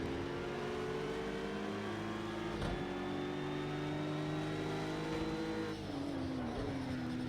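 An Acura NSX GT3 race car in Project CARS 2, drifting at Brands Hatch, holds a continuous loud engine drone whose pitch sags and shifts a couple of times as revs change.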